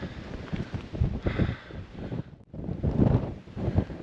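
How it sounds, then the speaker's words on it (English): Strong gusts buffet the microphone beside Emmaline Lake in the Comanche Peak Wilderness, heavy low rumbling blasts that swell and drop, with a brief lull midway before the roar returns. "It is really windy up here. Extremely windy."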